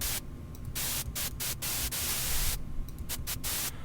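Synthesized white noise from a Logic ES2 synth, a dense hissing wash broken by rapid rhythmic gated cuts, steady and fairly loud with no voices.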